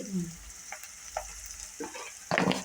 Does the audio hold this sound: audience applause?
no